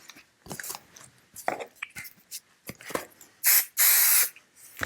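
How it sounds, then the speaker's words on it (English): Two sharp bursts of aerosol spray glue hiss loudly and close onto paper, following scattered rustling and handling noises. "put spray glue on the back of the paper"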